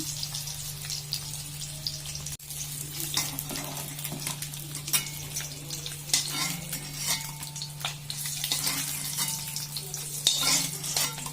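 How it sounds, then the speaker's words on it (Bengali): Egg frying lightly in a pan sizzles steadily, with frequent stirring and scraping noises and some splashing water from a nearby tap or sink in a home kitchen. "ডিমটা একটু হালকা করে ভেজে নিচ্ছি"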